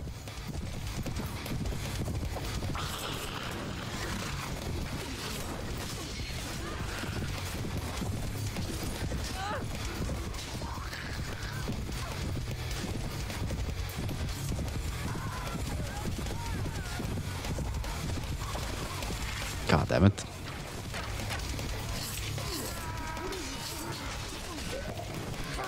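Many horses gallop in a medieval battle in Mount & Blade with the Prophesy of Pendor mod, a steady low rumble of hoofbeats with clattering and crashes, and one sharp impact near the end, someone talking over it.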